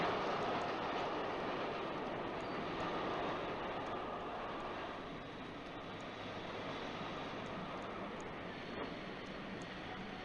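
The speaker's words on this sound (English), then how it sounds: "Your famous ghost train is running into the siding." A ghost train in a radio drama rumbles steadily as it runs into a siding, a dense, continuous roar of wheels and carriages that eases slightly halfway through, with no voices over it.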